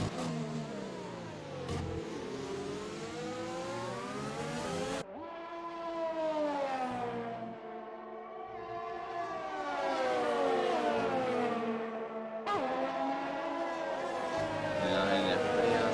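Formula racing cars in a video game's Chinese Grand Prix, engines howling loud and steady with rising and falling pitch as gears shift, under continuous commentary.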